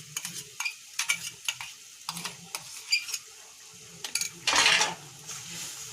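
Spoon stirring crushed ginger into a tamarind pickle mixture in a pot, a run of short scraping and clinking strokes in an uneven rhythm, close and clear, with one longer louder scrape near the end.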